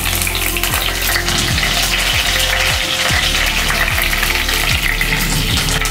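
Dried red chilies and curry leaves fry in hot oil for Hyderabadi mirchi ka salan. The close, steady sizzle runs throughout, broken by regular low sweeps, with no talk.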